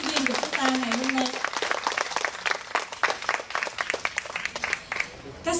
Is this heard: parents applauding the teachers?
yes